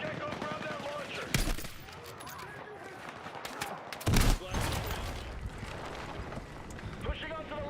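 Sustained suppressive gunfire in a Battlefield 6 battle, with bursts of shots rattling at mid distance and two sharper close cracks, all under ongoing combat noise and voices.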